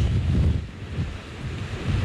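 Hurricane Matthew roars at St. Augustine by the Matanzas River, with heavy gusts buffeting the microphone and surf crashing in a loud, continuous low rumble that swells and eases.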